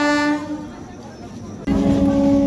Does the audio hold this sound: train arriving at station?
yes